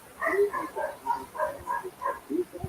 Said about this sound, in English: Here my dogs are excited.